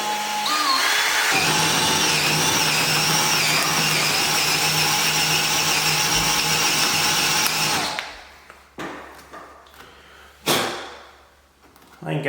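A power drill bores a 3/8 inch hole in a door for pocket door lock hardware, whining steadily for about eight seconds before stopping, followed by a few short bursts and knocks.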